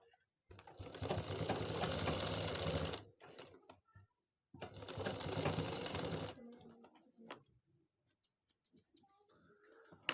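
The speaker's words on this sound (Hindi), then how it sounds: "तो सबसे पहले इन सिलाइयों को पक्का करेंगे।" An electric sewing machine stitching a handbag, running in two loud steady bursts of rapid whirring, then falling quiet with a few small clicks and handling sounds nearby.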